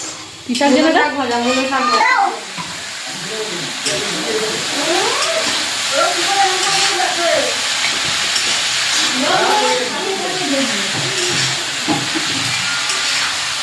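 Food frying in a pan at a family home gives a steady, loud hiss that runs under several voices chatting nearby.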